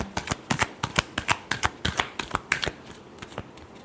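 Tarot cards are shuffled by hand up close, a rapid series of crisp flicking riffles and taps in an uneven rhythm, fading toward the end.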